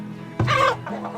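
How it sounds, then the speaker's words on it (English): Chickens clucking at a coop in the video game Farthest Frontier: a short burst of close, loud clucks after a brief quiet hum, followed by a softer second cluck. "So let's buy in as many chickens as possible."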